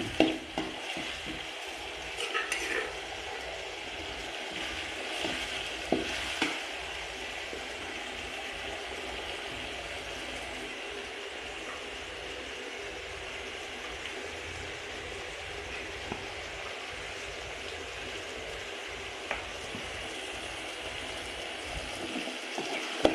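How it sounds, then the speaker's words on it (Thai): Chili stir-fried in hot oil for holy basil squid, a steady close sizzle and frying hiss with occasional scrape and stir clicks, running unbroken and alone. "ผัดให้หอมเลยนะครับ กับพริกกับน้ำมัน"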